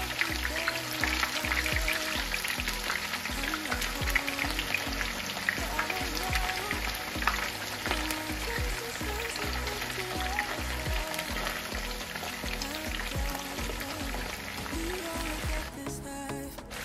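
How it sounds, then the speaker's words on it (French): Salted fish fries in a hot pan with a steady, dense crackling sizzle that carries on unbroken, close up, with faint kitchen clatter underneath and a brief shift near the end. "je commence à mettre mon poisson salé que je vais laisser frire tranquillement"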